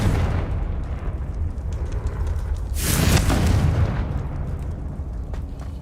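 A Confringo fire spell bursts in Hogwarts Legacy, a single booming explosion rising out of steady game ambience midway through, loud and brief against a rumbling background.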